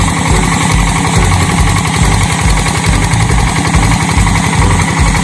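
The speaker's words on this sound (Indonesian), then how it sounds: "Ini mesin mereknya Yanmar." A Yanmar tractor engine runs loud and close while tilling farmland, giving a steady, rapid, rough chugging throb that stays constant throughout, with no voices.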